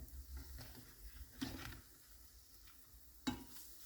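Pancakes frying in an unevenly heated pan give a faint, steady sizzle, with two sharper scrapes or taps standing out.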